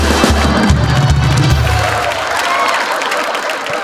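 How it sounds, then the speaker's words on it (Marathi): An audience at a Marathi comedy show's award ceremony breaks into loud, dense applause that gradually thins out, with some cheering mixed in. "जोरदार टाळ्या"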